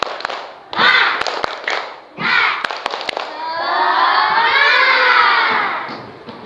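Schoolchildren in a classroom perform the tepuk semangat clapping chant: sharp group claps punctuate loud chanted shouts, then give way to a long, sustained, rising crowd of children's voices.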